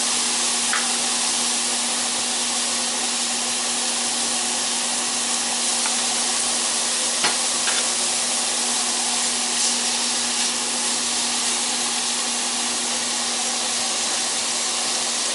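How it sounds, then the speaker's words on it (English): Sirloin steak tips fry in a hot pan, giving a steady, dense hiss and crackle that runs unbroken at moderate level, with a few faint pops and no talk. "I'll turn up the heat a little bit, get that steak going."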